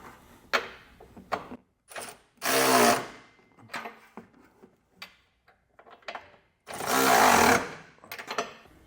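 An impact power tool snugs down hardware for a Blue Ox trailer hitch receiver on a 2021 Honda CR-V, with two loud, rattling bursts of about a second each, separated by short clanks and handling clatter.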